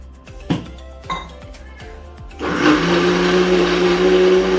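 A kitchen mixer grinder blends chutney: a few light clinks and taps come first, then the motor kicks in with a loud, steady whirring roar.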